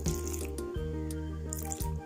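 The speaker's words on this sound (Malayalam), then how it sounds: "ഇനി ആവശ്യത്തിന് വെള്ളം ഒഴിച്ചു കൊടുക്കുക." Water is poured from a tap into a bowl of homemade fried-biscuit dough made with melted butter, a steady close splashing stream with brief breaks and no talking.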